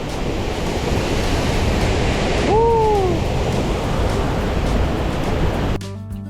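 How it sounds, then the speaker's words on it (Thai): A constant loud roar of heavily rushing water from Huai Luang waterfall in high flow fills the scene, with a brief whistle-like tone sliding down midway before the roar drops. "สวยมากเลยน้ำตกเนี่ย น้ำโคตรเยอะ"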